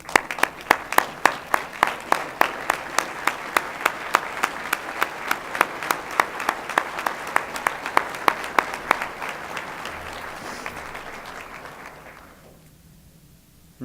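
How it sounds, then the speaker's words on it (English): Alumni at a distinguished alumni luncheon applaud one another in a sustained round of clapping, steady and fairly close, fading out near the end. "let's give each other a round of applause"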